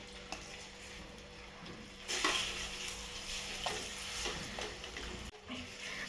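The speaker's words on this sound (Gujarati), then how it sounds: "આ જે સક્કરિયા મેં ભાગીને રાખ્યા એ હવે આમાં આપણે ઘીમાં એડ કરી દઈશું" Sweet potato pieces fry in ghee with a continuous sizzle that grows louder after they go in. Spatula scrapes and taps come through now and then, and one abrupt knock lands near the end.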